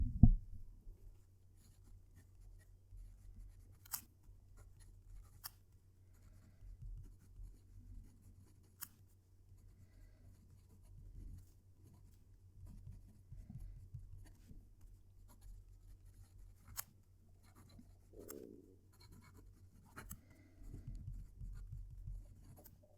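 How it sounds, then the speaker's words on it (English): A wooden pen scratches across paper right beside the microphone, with soft, irregular strokes and occasional sharper ticks over near-silence. No one speaks. "I'm going to move the microphone down close to the paper so you can hear it write."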